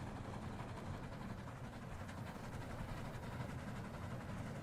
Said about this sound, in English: And this is what the train sounds like.